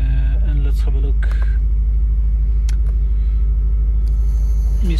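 Audi RS6 C5 Avant ABT engine idling with a deep, steady low rumble throughout, close by, with faint clicks and brief tonal blips over it.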